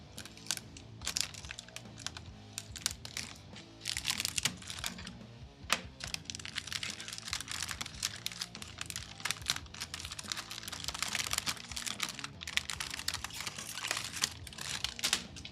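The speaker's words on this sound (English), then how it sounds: "let's do some more crinkling ASMR." Crinkling of model kit packaging, dense rustling and crackling bursts that run nearly continuously at close range, with brief pauses and no talk.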